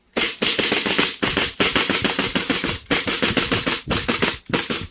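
A CZ Shadow pistol fitted with a steel hammer is dry fired, producing loud, sharp metallic clicks and snaps in rapid bursts separated by short pauses.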